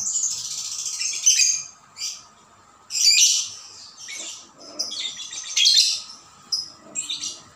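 A lovebird being trained calls in bright, high chirps and squawky bursts, close and loud, coming in irregular clusters with short quiet gaps between them.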